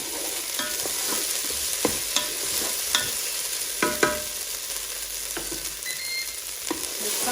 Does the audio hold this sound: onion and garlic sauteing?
yes